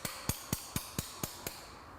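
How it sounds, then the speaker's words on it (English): A small light-duty hammer taps a pin into a Malossi cylinder kit on a Vespa scooter, seven sharp, evenly spaced metallic knocks at a brisk steady rhythm, close and distinct. "gotta use my specialty hammer right here. It's a nice little light duty hammer."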